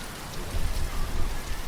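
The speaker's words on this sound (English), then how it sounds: "The rain was relentless, as it had been for weeks" Steady, heavy rain pours down as a dense, continuous hiss of drops with a low rumbling undertone, filling the whole short stretch without any voices.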